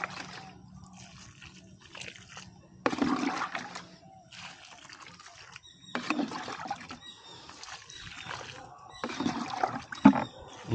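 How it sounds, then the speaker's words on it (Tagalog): Water poured from a bucket splashes onto the soil around grape plants after urea fertilizer is applied, a steady sloshing pour arriving in several surges with brief pauses between them. "Ayan, diligan na natin."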